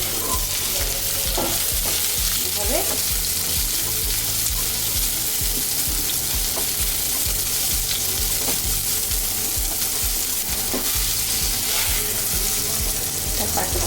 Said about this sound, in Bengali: এখন আমি ক্যাপসিকামগুলো আমি এটার মধ্যে হালকা সেদ্ধ করে নেব।